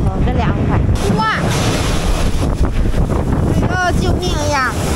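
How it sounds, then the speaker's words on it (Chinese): Strong wind during a sandstorm buffets the microphone with a loud, continuous roar and gusts, while people exclaim and talk over it. "刮大风了，哇，这么大风，真凉快"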